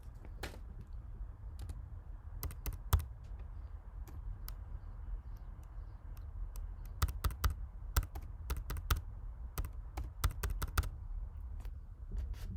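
Typing credit card details on a computer keyboard, scattered crisp key clicks in irregular bursts over a low room hum, close and fairly quiet.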